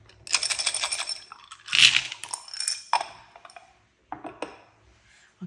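Scrabble tiles rattling and clacking inside a container as it is shaken, a dense burst of small hard clicks close to the mic, then a few shorter shakes with quiet gaps between.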